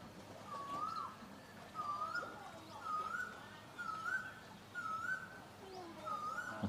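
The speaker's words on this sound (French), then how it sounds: "Entre ça et l'oiseau qui s'énerve derrière." A bird repeats a rising, whiny call about once a second over a low background hum, fairly faint and persistent.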